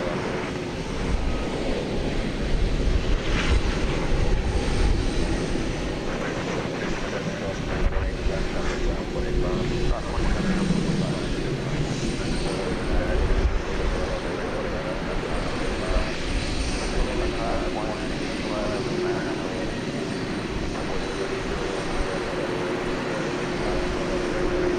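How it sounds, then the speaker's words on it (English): Aircraft engines roar steadily at DFW Airport at night, a loud, continuous jet rumble that swells and holds throughout, with faint voices underneath. "Ah, the sounds of the airport."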